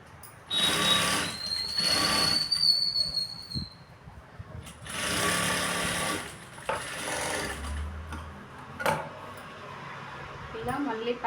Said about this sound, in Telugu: ఒక టాప్ స్టిచ్ అయితే వేసేయండి.